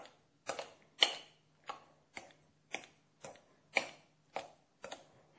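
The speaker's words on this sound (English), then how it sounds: "I'm going to use a scissor just to rough chop them up" Scissors rough-chop tomatoes on a cutting board for a homemade pizza, giving about ten crisp, evenly spaced snips, close and fairly quiet, with silence between cuts.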